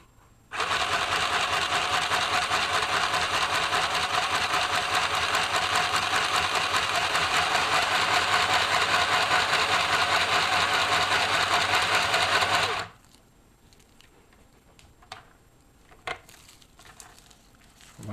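A cheap mini sewing machine runs steadily for about twelve seconds, zigzag stitching through hair wefts with a loud, close, continuous whirring buzz, then stops abruptly, leaving quiet handling clicks and rustles.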